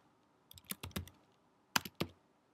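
Typing on a computer keyboard, close and quiet: a quick burst of several key clicks followed by a brief pause and a couple more keystrokes, with no talk.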